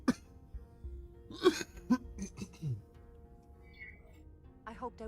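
A person coughs a few times in short bursts, quiet and close, with faint background sounds and brief vocal noises between.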